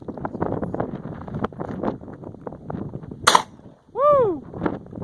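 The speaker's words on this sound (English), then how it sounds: "Here's Hank shooting the UTAS 12 gauge." A UTAS 12 gauge shotgun fires a single sharp, loud blast outdoors amid wind and faint background noise, followed by a rising-and-falling whooping shout from someone nearby.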